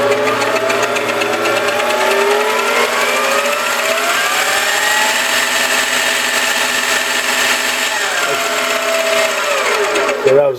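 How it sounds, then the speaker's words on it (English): An ENCO 7x10 metal lathe with a variable speed drive running forward at up to 2,500 RPM, a loud steady motor whine whose pitch climbs and then drops near the end, with a few faint voice sounds in the background. "Turn the machine on and go forward. This is variable speed drive."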